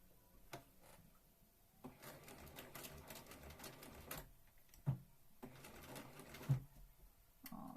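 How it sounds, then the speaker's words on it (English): A sewing machine stitching a Regency-style dress, running in quiet rapid bursts with pauses between seams and a few sharper clicks and knocks. "I'm busy sewing."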